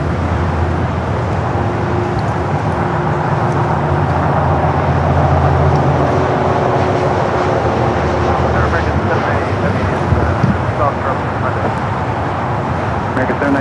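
A jet airliner rolls down runway 24 left on the north side of LAX airport with a constant heavy roar and rumble, and radio voices talk over it.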